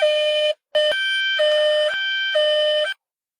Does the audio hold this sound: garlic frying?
no